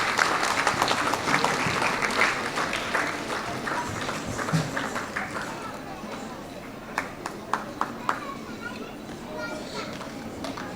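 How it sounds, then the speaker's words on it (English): Applause from an audience at a school annual day prize-giving, a sustained wash of clapping mixed with children's chatter and movement, fading into scattered claps near the end. "A big round of applause for Madhuvanti"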